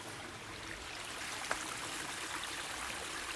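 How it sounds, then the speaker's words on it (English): A flowing mountain stream on the Appalachian Trail, heard as a steady, fairly faint broadband rush of water throughout, with one brief small splash or click near the middle and no talking. "There's where we're getting our water. This is a stream"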